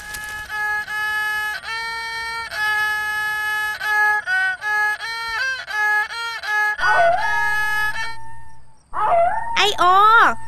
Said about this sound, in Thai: แกอย่าหอนได้ไหมมันค่ำแล้ว